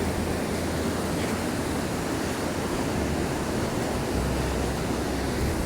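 Surf on Nanjizal Beach on a stormy day, a loud, continuous broadband roar of waves mixed with wind buffeting the microphone, steady throughout with no voices.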